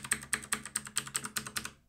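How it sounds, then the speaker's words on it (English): Arrow keys tapped on a computer keyboard while moving notes in Ableton Live, about nine crisp, evenly spaced clicks in a steady rhythm, close and clear with no talking. "just use your arrow keys on your keyboard"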